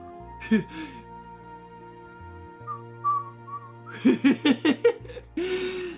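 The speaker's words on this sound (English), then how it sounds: "I tried to do a whistle without doing it too loud." A person whistles softly in a brief, faint, wavering tune. Bursts of giggling and laughter come before and after it, over a low steady background hum.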